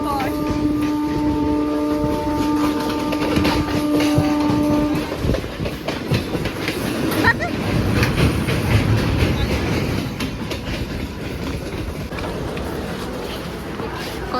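A train horn sounds for several seconds, then a passing train rumbles and clatters nearby, with voices talking underneath.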